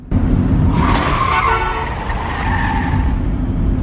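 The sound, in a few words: Hyundai car driven recklessly in a movie scene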